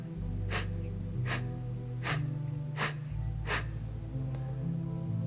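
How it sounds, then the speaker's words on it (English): Five quick, forceful nasal exhales of Kapalabhati breathing come in an even rhythm about once a second, close and clear over a soft sustained instrumental drone. "We're going to do this cleansing technique called Kapalabhati. And what it is quick exhales"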